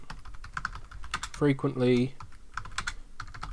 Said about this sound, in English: just typing around my mic